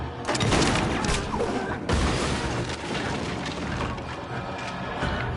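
Gunfire in the video game Little Nightmares 2, loud booming shots and crashing impacts in a dense continuous burst, with mechanical clanks mixed in.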